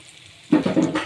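Garlic with almonds and cashews frying in a pan, a quiet hiss that jumps halfway through into a louder, uneven bubbling sizzle in bursts, close by with no talk.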